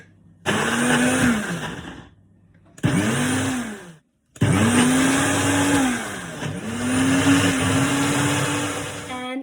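A blender whizzes garlicky pesto in three short, loud bursts, each motor run spinning up and settling into a steady whir before cutting out, with a brief silence between bursts.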